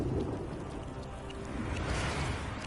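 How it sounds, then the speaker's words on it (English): Rain and thunder in the Wuthering Waves game world, a dense steady wash of falling rain with low rumbling underneath, continuous and fairly loud throughout. "Until the retroact rain began to fall."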